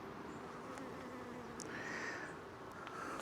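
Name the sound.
guard honey bees buzzing around beekeeper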